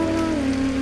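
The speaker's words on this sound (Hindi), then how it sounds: "बारिश की आवाज को पार करते ही अब मैं भी साफ" Rain pours steadily as a sound effect in a Hindi horror story set on a dark, rainy night, a continuous close hiss with a low tonal hum running beneath it.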